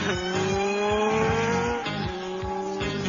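The Street Hawk motorcycle speeds off with a roaring, revving engine and squealing tires, loud and continuous, with repeated rising pulses as it accelerates.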